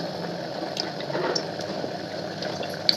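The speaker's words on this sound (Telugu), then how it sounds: "నూనె వేసుకుందాము అదే నెయ్యిలో కొంచెం నూనె ఎక్కువే పడుతుంది ఫ్రై కదా" Cooking oil pours steadily into ghee in a pan for a chicken fry, a continuous soft liquid stream at close range with a few faint clinks near the end.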